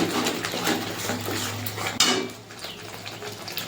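Spice paste for a cauliflower rezala is stir-fried in a pot, a metal spoon scraping and clanking against the sides in quick strokes over a soft sizzle, with one sharp knock partway through.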